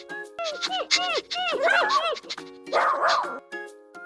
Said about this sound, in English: Look, it's a dog.